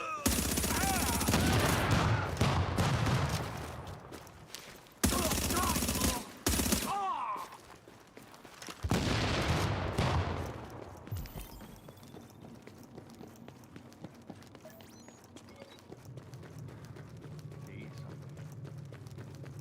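Gunfire bursts in The Division shooter game, loud clusters of shots in the first half that give way to quieter ambient game noise, with a voice talking over it.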